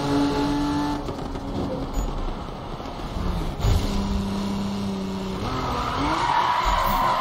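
A 1000+ horsepower Supra drifting in Need for Speed, engine droning loudly while tires squeal and skid in long smeared bursts, with no talk.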